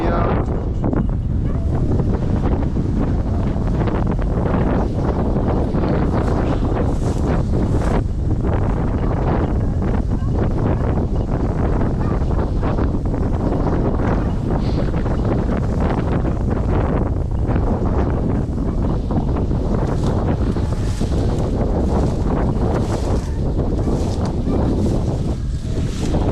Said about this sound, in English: We got some real high wind